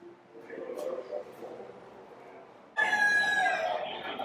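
Chickens and other fowl in a poultry section at a show cluck softly before a rooster bursts into a loud, close crow, with people talking in the background.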